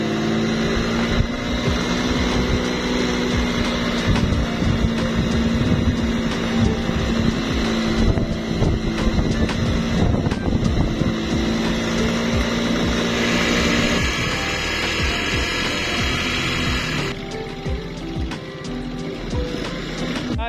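A Volta motorcycle engine revving while riding on a road trip, a loud continuous drone with heavy wind rush across the microphone that eases slightly near the end.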